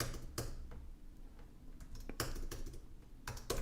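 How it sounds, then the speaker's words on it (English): Typing on a computer keyboard, a quick run of soft clicking keystrokes with a few louder taps, close and quiet with no voices. "And I will type"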